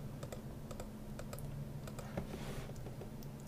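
Rapid keystrokes on a computer keyboard tap out a folder name, a quick, even run of light clicks close by over a low steady hum, with no voices.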